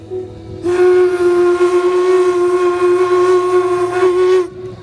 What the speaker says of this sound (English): The two train engineers, Booth and Bradford, pulled down their whistles to send up a greeting.